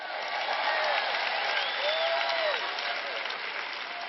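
An audience at a church sermon applauds in a continuous, even wash of clapping, heard slightly muffled and band-limited, steady throughout with no voices on top.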